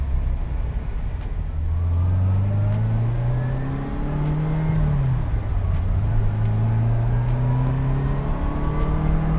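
A restored 1979 Ferrari Dino 308 GT4 drives at partial throttle from inside the cabin, its engine droning steadily and loudly, the pitch rising and falling smoothly as it pulls through the gears and corners, with no talk.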